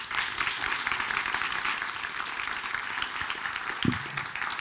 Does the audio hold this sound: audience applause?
yes